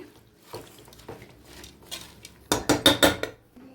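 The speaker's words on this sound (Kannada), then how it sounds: "ಇವಾಗ ಎಲ್ಲ ಒಂಚೂರು ಮಿಕ್ಸ್ ಮಾಡಿ ಸ್ವಲ್ಪ ಉಪ್ಪು ಹಾಕಿ" A spoon stirs palak dal in a metal pot with scattered scrapes and clinks, ending in a quick burst of four or five loud, close clanks against the rim, with no voices.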